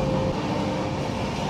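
The Kamrup Express 15960 runs steadily, and its low, broad rumble fills the washroom of the moving train. The noise is loud and continuous, with no voices.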